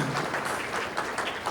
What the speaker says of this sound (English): We can give a round of applause